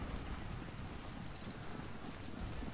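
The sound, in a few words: horses clip-clopping in Ultimate General: Civil War video game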